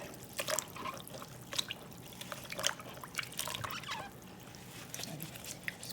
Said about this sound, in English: Squeeze them out, chuck them in.